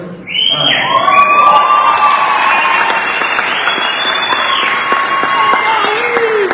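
Audience cheers and applauds at a graduation ceremony, a loud, steady wash of clapping with whoops and shouts that rises quickly and holds for several seconds.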